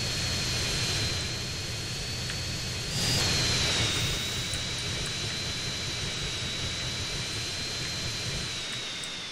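Airplane engine in GTA San Andreas, a steady loud jet-like roar with a high whine, swelling briefly midway and holding without talk.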